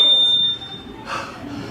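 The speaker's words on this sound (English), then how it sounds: "Pay no attention to that timer." A workout timer gives one steady high electronic beep for about half a second during a HIIT dumbbell session, then cuts off, leaving faint room noise and a brief soft rustle.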